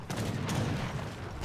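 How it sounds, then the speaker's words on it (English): Heavy cannons fire in a barrage in the Age of Empires 3 video game, a dense rumbling roar of overlapping booms with a few sharper cracks, loud and continuous. "Heavy cannons counter barraging the Great Bombard."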